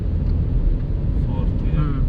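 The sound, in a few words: 2014 Hyundai i20 Sportz car accelerating through gears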